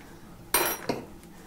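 Metal ice cream scoop scraping and pressing cooked rice into a round mound in a home kitchen for a tandoori wok curry, two short close clatters a moment apart against a quiet background.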